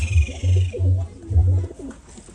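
Low, soft pigeon coos at a pigeon farm repeat in a short series of rounded hoots, close by, with faint background noise.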